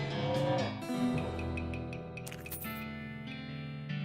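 A cartoonish cow moo from the West of Loathing video game, a drawn-out bovine low over steady harmonic game background sound, clear and close for about four seconds.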